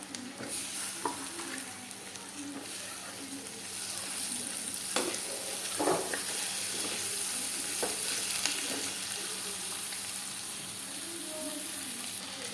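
Thinly cut potatoes sizzle and crackle steadily in a pan of browned masala for a kadhi recipe, with scraping stirs and occasional clinks of the spoon over a constant close frying hiss.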